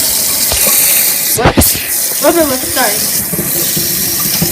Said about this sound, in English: We're gonna be putting hot water in our ice cubes.